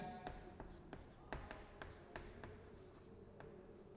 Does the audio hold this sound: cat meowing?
no